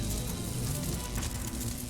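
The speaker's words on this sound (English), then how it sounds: "A violent sparking sound." Violent electrical sparking from a phone wave device in the visual novel Steins;Gate, a steady dense crackle and hiss filling the scene, loud and continuous without pause.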